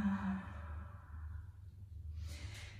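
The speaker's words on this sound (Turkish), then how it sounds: "Ağzından bırak nefesi." A single soft exhale through the mouth during a yoga session, a quiet, breathy sigh fading out over a couple of seconds in a calm setting.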